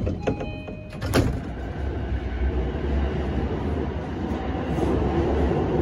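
On a JR Keiyo Line commuter train at track 3, the doors close while chimes ring at the start, followed by a sharp thump and the low rumble of the carriage moving steadily onward.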